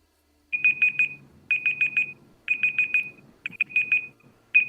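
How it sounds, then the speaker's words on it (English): A timer alarm goes off during an online design portfolio review, sounding as repeated bursts of rapid high electronic beeps in regular groups, loud and close, with a faint low murmur underneath. "Let me just stop this timer."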